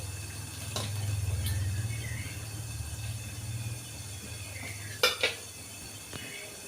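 Steady sizzling hiss of fish frying in a pan over a low hum, with a couple of sharp metal clinks near the end.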